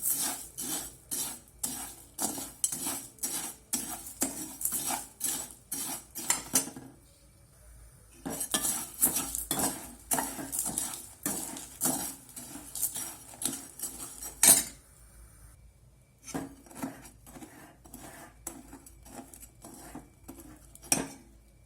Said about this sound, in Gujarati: ખાંડ હજી આપણે આ રીતે થોડીવાર હલાવશું